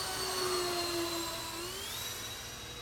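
A Freewing F-14 RC model jet on its maiden flight making a low pass, a steady whining turbine tone that rises in pitch as it passes, fairly faint and continuous.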